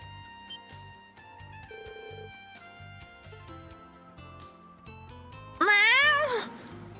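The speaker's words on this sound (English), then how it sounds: "it's a cat" A single drawn-out cat meow rises and falls over soft background music, loud and close near the end.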